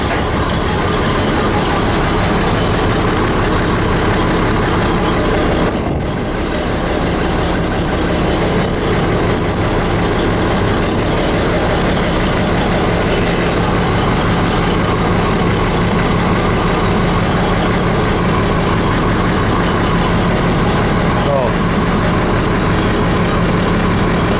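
An old Bizon combine harvester's engine runs at a steady, loud, low idle, a continuous rough diesel rumble close by with no speech over it.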